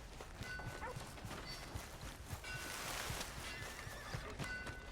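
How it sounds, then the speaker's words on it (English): A horse in the video game Red Dead Redemption 2 gives a loud whinny over the clip-clop of hooves, with outdoor game ambience and a faint dog-like bark in the mix. "Here's your horse back, friend."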